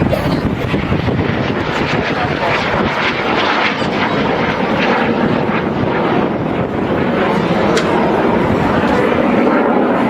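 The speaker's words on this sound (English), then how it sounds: "It actually started out as a piston engine aeroplane with a propeller on the front." A propeller aeroplane, originally a piston-engined trainer, flies past at the Herne Bay Airshow, its engine drone loud and steady throughout, mixed with heavy wind noise on the microphone.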